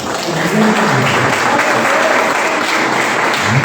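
A church congregation at a Sunday family service applauds steadily and loudly for the whole stretch, a dense wash of clapping with faint voices mixed in.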